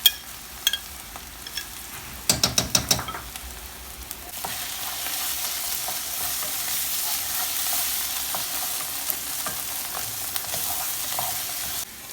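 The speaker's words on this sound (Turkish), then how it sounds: "Şimdi bunları kavuracağım." Chopped vegetables sautéing in a pan with salt and pepper paste for stuffed mulberry leaves, a steady sizzle with a few louder stirring clatters early on.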